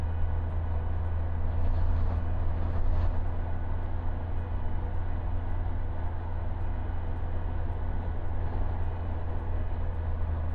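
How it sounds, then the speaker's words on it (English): A steady low rumble and drone like a train rolling past, constant and unbroken, with a broad hiss on top. "Look at this train."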